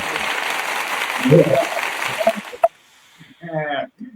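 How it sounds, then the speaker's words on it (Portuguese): An audience at a church service claps to welcome a visiting pastor. The applause is moderately loud for about two and a half seconds, then stops abruptly, followed by quiet and a short stretch of talking. "Salva de palmas para ele."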